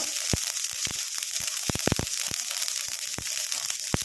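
Mustard seeds crackle and pop in hot oil over low flame, giving sharp irregular snaps over a constant sizzle and close to the pan.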